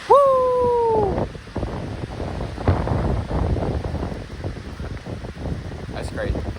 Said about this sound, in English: You guys hear that wind?